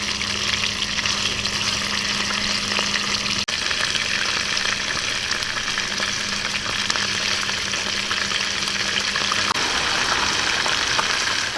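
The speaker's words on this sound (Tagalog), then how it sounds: "Ngayon na mainit na po ang ating mantika ay ipiprito muna natin itong ating tofu." Tofu deep-frying in hot oil, a loud, steady, close-up sizzle and crackle holding continuously with no talking.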